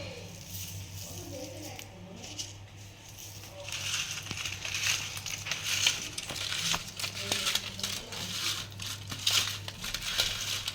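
Hands mix cut, washed prawns with salt and turmeric, making soft, close, continuous squishing and crinkling sounds that grow busier after a few seconds.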